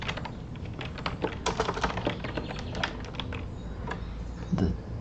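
Rapid typing on a computer keyboard, a dense run of close, crisp key clicks with uneven rhythm and no talking.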